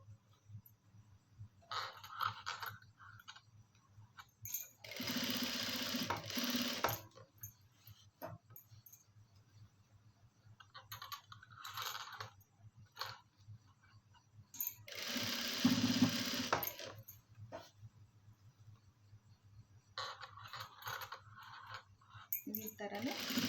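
A sewing machine stitching piping on a garment runs in short bursts of rapid whirring, several separated by quiet pauses, close and fairly soft.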